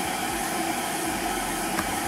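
An electric kettle heats water while running off an EcoFlow DELTA 2 portable power station, giving a steady, close rushing hum with a hiss of steam and no voices.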